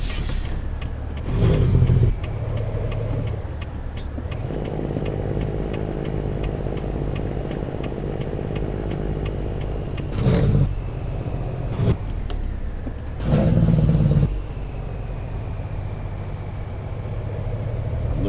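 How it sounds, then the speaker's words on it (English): Truck engine brake on a custom 389 rig in American Truck Simulator, a loud steady low engine drone with several short grinding bursts and a rising whine, no voices. "The engine brake sounds even better in here."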